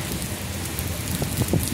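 Heavy rain pouring during a tropical storm in Orlando, Florida, a dense, steady hiss of drops hitting surfaces up close, with a few low thuds near the end.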